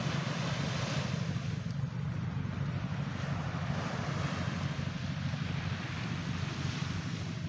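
Sea waves wash steadily at an island beach resort on Samal Island, with a continuous broad surf rush and wind noise, even and fairly loud throughout, with no voices.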